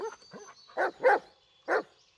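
A dog barks in the Blair Witch video game: three sharp, loud barks spaced about a second apart, preceded by a couple of softer whimpering yips, heard close and alone.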